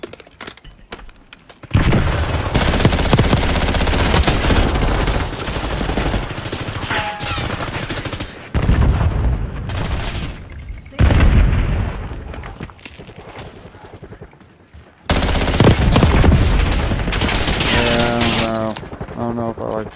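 Bursts of rapid automatic gunfire ring out in a video game, loud and sustained with short gaps, along with booms and explosions, while someone talks over it.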